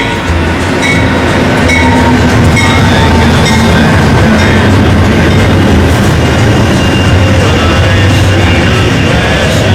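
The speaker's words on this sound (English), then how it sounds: "Now arriving. Amtrak train 48448 eastbound Lakeshore Limited from Chicago and points west." Amtrak's eastbound Lakeshore Limited passenger train pulls into the station on its Chicago-to-Boston run, with a steady, loud, continuous rumble of rail cars and rhythmic wheel clatter that runs throughout, no talking.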